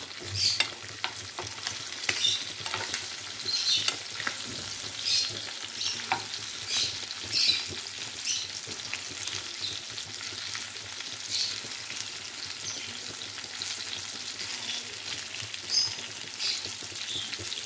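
Chicken frying in hot oil gives a continuous crackling sizzle with quick bright pops, and scraping stirs break in repeatedly. The sound is close and moderately loud, and no voices are heard.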